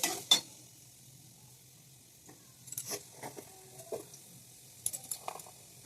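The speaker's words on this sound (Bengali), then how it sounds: "নুন দিয়ে ভাজি" Carrots and beans stir-fried with salt in a pan: faint sizzling with occasional scraping and clinking of a utensil against the pan, sparse and quiet.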